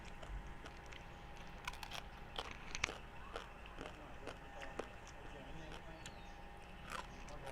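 Crispy crackling skin of Thai roast suckling pig is bitten and chewed close up, giving soft crunches and crackles with no clear rhythm, faint under people talking.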